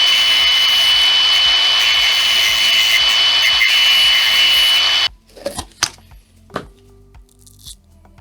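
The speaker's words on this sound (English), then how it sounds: "I'm going to use an angle grinder to cut these tiny bits of metal." An angle grinder cutting tiny bits of metal, a loud steady high-pitched whine and grinding for about five seconds, then the tool stops and a few clanks and handling knocks follow.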